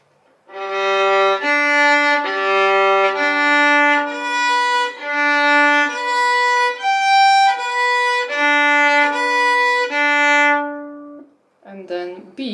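A violin plays a Dounis string crossing exercise at the frog of the bow, a sustained sequence of rocking bowed notes alternating between strings in a steady rhythm, close and clear, followed by a brief spoken voice at the end.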